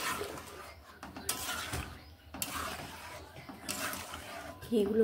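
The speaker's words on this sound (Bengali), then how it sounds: "এবার দিয়ে নিচ্ছি একটুখানি ঘি। এইভাবে মিশিয়ে নিচ্ছি ঘিগুলোকে।" A spoon stirs ghee into vegetable moong dal in a pot, giving intermittent scraping and clinking against the metal in short bursts, moderately close, while a voice talks over it.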